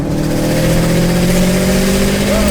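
Turbocharged Subaru GR WRX with a 6-speed manual and over 400 horsepower, its engine droning loud and close in a steady revving hum with a pitch that rises slightly near the end, with no talking.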